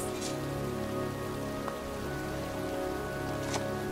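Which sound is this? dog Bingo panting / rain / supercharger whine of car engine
rain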